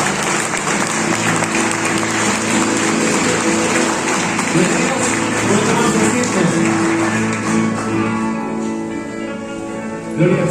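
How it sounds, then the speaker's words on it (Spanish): Congregation in a church service applauding loudly and steadily for about ten seconds, with voices and some music mixed into the dense clapping. "darle un fuerte aplauso al Señor."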